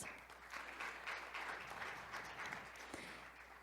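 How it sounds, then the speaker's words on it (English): Audience applause at an international forum session on AI governance, dense continuous clapping that swells quickly and stays fairly even throughout. "Please welcome him with a big round of applause"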